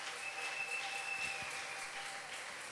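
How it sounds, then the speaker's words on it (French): A church congregation applauds the Lord during worship, a steady wash of clapping that fills the room without pause, fairly faint and distant, with no voices standing out. "On acclame le Seigneur pour sa présence."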